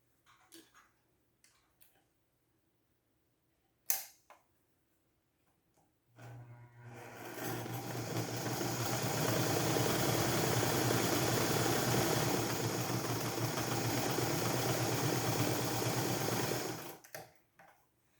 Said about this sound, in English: next, I stitch across the top to close this end of the headband